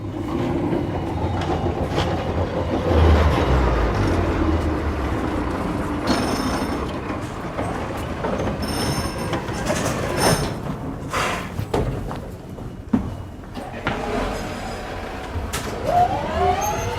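An old Type N tram rumbles along the rails with squeals and clanks, loud and nearby, its noise rising and fading over the stretch.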